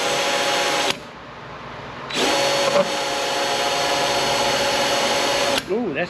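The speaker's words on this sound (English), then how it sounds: "Incrementally drill this out." A power drill boring into hard metal during an EFI fuel injection conversion whines steadily, stopping briefly, then grinding on for several seconds with a high strained pitch before winding down.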